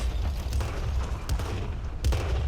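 Artillery fire in the World of Tanks tank battle game: two heavy, sharp booms about a second apart rise over a steady low rumble of engine and battlefield noise, with no talking.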